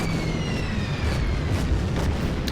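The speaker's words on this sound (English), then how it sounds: "That's the B-25 Mitchell arriving. It will bomb my Panzer," A B-25 Mitchell bomber bombing a Panzer tank in the wartime strategy game Order of Battle, a dense rumbling run of bomb blasts with a droning engine tone, loud and continuous throughout the short burst.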